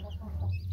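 Hen clucking among small chicks in a poultry enclosure, a brief low cluck heard close and alone.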